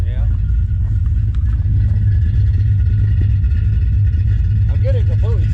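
Hot rod car engine idling with a lumpy lope in a speed shop, a loud, close, uneven low rumble running steadily with a person talking over it.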